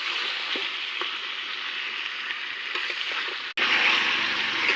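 Chicken and potatoes sautéing together in a pan, a steady broadband sizzle with faint stirring clicks that drops out briefly near the end and then returns a little louder.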